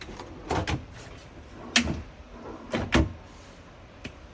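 An overhead cabinet door in a custom off-grid camper van lifts open on hinge stays, creaking and bumping with a few soft knocks and hinge clicks, quiet and close, with pauses in between.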